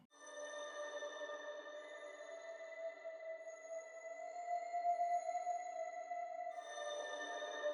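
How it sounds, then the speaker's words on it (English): Toy piano sample from the Fracture Sounds Blueprint library, held as a steady, bright harmonic tone with an airy atmospheric quality. It rings evenly for several seconds, shifts slightly near the end, and plays alone with no talking. "And then we have their toy piano."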